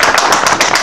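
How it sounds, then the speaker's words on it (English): Crowd at a wrestling show clapping, a short loud burst of rapid overlapping handclaps with voices mixed in. "Applaudissements."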